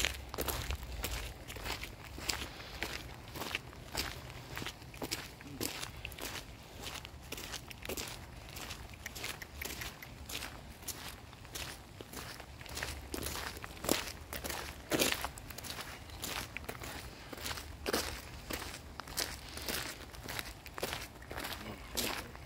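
Slow footsteps crunching over ground at a forest base camp at night, a steady even stride, faint and close, with light wind noise in the background.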